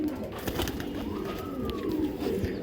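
Pigeons coo softly and steadily at mid distance as a female racing pigeon is released, with a faint rising whistle-like call near the middle and a low murmuring bird background throughout.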